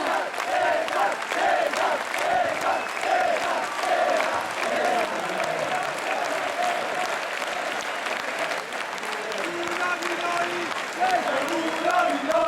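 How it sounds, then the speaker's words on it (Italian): Crowd gathered outside Caffè Pedrocchi in Padova applauds and cheers for Cesar, a departing Calcio Padova player, with dense sustained clapping and shouts lasting the whole stretch, voices calling out over the noise. "Un applauso anche a Cesar!"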